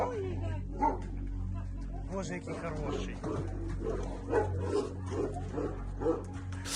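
Dogs bark and whimper in the background at an animal shelter, several short yips scattered throughout, while people talk close by over them.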